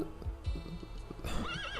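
Seahorses whinny in a cartoon video game, a loud neigh rising and wavering near the end over soft hoof-like clip-clops and low rumbling, close and clear.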